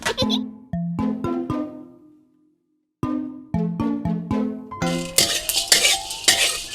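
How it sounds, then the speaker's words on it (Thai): Hard spices dry-roasting over low heat in a pan for chicken massaman curry, stirred with a utensil. Bright ringing metallic clinks come in quick runs, pause, then return with a busier scraping rattle. "ที่มันเป็นเนื้อแข็งเนี่ยใส่ลงไปพร้อมกัน เปิดไฟอ่อนๆนะลูกนี่อ่ะคั่วไป"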